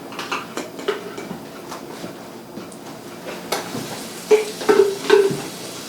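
Garlic sizzles in a hot pan with scattered crackles and pops, punctuated by louder clinks of a utensil against the pan near the end.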